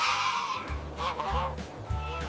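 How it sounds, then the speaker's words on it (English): A Canada goose honks in a few short, nasal, repeated calls that rise over a rough background. "It's a Canadian goose."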